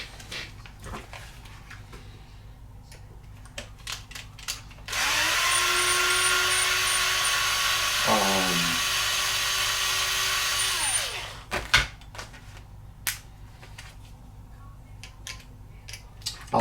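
Dremel rotary tool cutting off metal posts on a Jeep rock crawler slider, a loud, steady high whine lasting about six seconds that dips in pitch as it bites into the metal, with light handling noises before and after.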